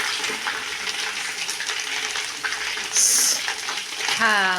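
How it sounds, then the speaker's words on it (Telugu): Ginger and garlic frying in oil for mango pickle give a close, steady sizzle and bubbling, with a brief brighter hiss partway through and a faint tonal sound near the end. "అల్లం ఎల్లిగడ్డ ఒకేసారి వేస్తే పొంగుతుంది నూనె అంతా పొంగి కింద పోతుంది"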